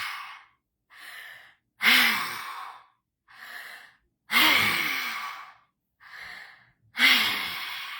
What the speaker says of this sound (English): breathing in with the mouth and exhaling through the mouth